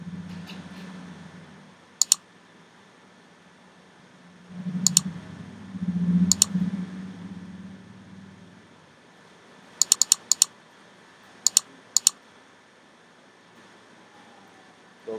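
Computer keyboard typing and mouse clicks while filling in an account sign-up form for a free CRM, sounding as sparse, sharp clustered clicks and short bursts of keystrokes over a low steady hum, close by with no talking.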